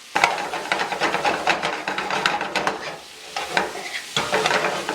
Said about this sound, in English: you pretty much want to stir this to coat the shrimp with all that curry goodness we have going on here in the bottom of the pan